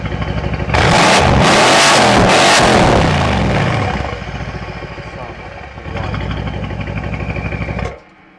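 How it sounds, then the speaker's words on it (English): A Mercedes C63S engine revving hard with the exhaust valves open, a loud close burst of revs that falls to idle, then a second shorter rev, with someone talking between. "I'm just gonna rev it. I'm gonna open the valve."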